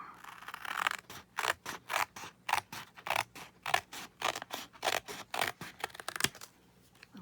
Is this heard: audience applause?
no